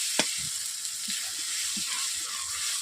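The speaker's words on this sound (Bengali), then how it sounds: "এইভাবে আস্তে আস্তে করে আমি মশলাটাকে কষিয়ে নিচ্ছি।" Spice paste for a rohu fish curry sautéing slowly over low heat, a soft steady sizzle with faint scraping stirs, close and quiet, no talking.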